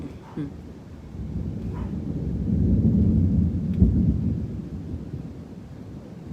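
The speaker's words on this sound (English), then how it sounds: "I'm sure she hears the thunder as we all do." Deep thunder from an approaching storm rolls in at the beach, a long low rumble that swells to a peak mid-way with a sharp crack, then eases off under a wash of wind and rain.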